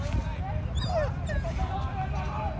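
A Doberman plays with a small dog, giving high whimpering and yipping calls in short rising and falling bursts over a low rumble, with a person's voice talking throughout.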